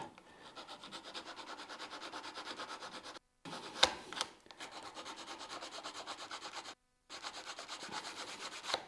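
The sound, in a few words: sanding with sandpaper attached to a popsicle stick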